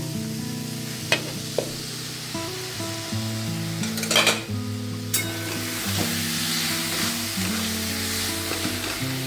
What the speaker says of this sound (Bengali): এদিকে সর্ষে আর পাঁচ ফোড়ন দিয়ে চাটনিটা বসিয়ে দিয়েছি